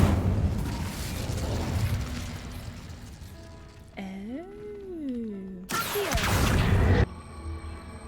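Incendio fire spell cast in the Hogwarts Legacy video game: a burst of bright whooshing fire and booming impact, with a rising and falling magical tone in the middle and a sharp flare near the end, over steady game ambience.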